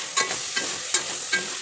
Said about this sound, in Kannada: ಪುದೀನ ಸೊಪ್ಪು ಹಾಕಿ ಸ್ವಲ್ಪ ಹಾಗೆ ಫ್ರೈ ಮಾಡಬೇಕು ಅದನ್ನ ಎಣ್ಣೆಲಿ.